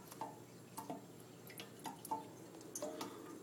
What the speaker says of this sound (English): the fish tank is leaking.